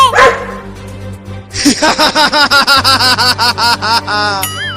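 Cartoon dogs barking in a rapid, loud, close series of regular yaps after a short opening squeal, ending with a brief whine.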